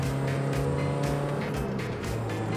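A Mazda Miata NB track car with a modified exhaust and cold air intake drones steadily under load, a loud, close, buzzy engine note that holds nearly constant pitch for a few seconds.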